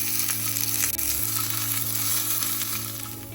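Dried chillies, onion and garlic frying in a little hot oil to temper cooked lentils, a steady loud sizzle with crackling spits running through the whole stretch, with no voices.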